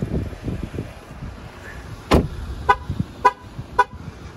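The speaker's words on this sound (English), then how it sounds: "Keeps honking because I have the keys on me." A 2023 Jeep Wrangler Sahara sounds several short, sharp horn toots in a row, loud and close, after a stretch of low rumbling, spaced roughly half a second apart.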